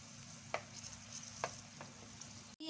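Chopped green onion and vegetables stir-frying in a pan, with a steady sizzle and a few sharp scraping stir strokes spaced apart, then a louder clatter at the end.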